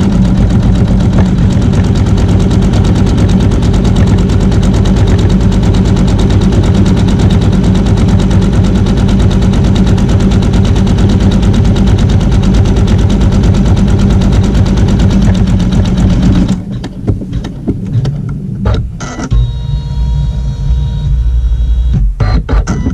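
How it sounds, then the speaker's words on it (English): A computerized embroidery machine sews a placement stitch to line up fabric on a block, its fast, steady mechanical stitching loud and close, running continuously before dropping to a quieter, more intermittent whir near the end. "I just like to hold it in place as it's stitching, so it's lined up with the placement stitch."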